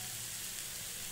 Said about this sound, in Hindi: तो अपनी सब्जियाँ ऑलमोस्ट भून चुकी है, अब हम इसमें मसाला ऐड करेंगे